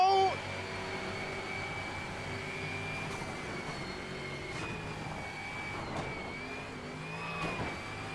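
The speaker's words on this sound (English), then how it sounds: "I can hear the turbos now." Rally car engine with turbo in the video game ExoCross, a steady mid-level engine drone with whining tones that rise and fall, marked by occasional bumps and scrapes.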